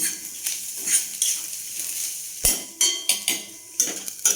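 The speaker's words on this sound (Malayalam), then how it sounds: "ഇതൊന്ന് ഇളക്കി കൊടുക്കാം." A utensil stirs turmeric and roasted coriander powder in a pan, giving sharp scraping clinks and taps in irregular bursts, with a soft sizzle underneath between strokes.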